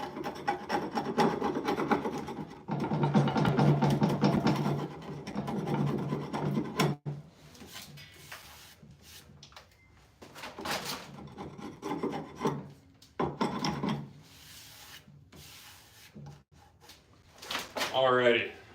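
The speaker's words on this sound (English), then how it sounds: "I got some stuff to scrape off the mold here" Glue residue is scraped off a skateboard press mold in a board-making shop, producing loud, close rasping strokes in uneven bursts separated by pauses, with a voice talking at points.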